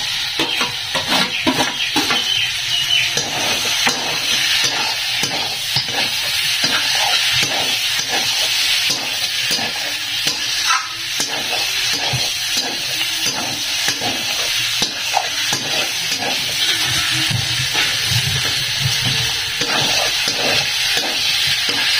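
Prawns go into figs that are being fried in a pan for Bengali fig and prawn curry, with a steady loud sizzle, brisk stirring and scraping against the pan throughout, and no voices.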